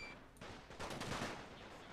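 Gunfire and artillery from The Great War: Total War, a World War One battle at Verdun between Germany and France, with a dense rolling fusillade of rifle and machine-gun fire swelling mid-clip and staying loud throughout.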